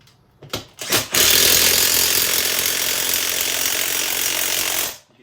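A BeadBuster tool forces a tire bead off its rim with a loud, steady mechanical grinding and ratcheting that runs continuously for several seconds after a few short clunks, then cuts off abruptly.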